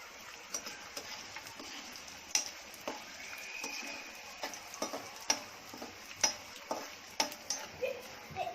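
Edible gum puffing while frying in ghee: steady crackling sizzle with sharp little pops and ticks scattered throughout, close and moderately loud, no talking.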